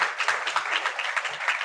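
Church congregation at a Friday prayer meeting clapping together, a dense burst of applause that fills the moment without any speech over it.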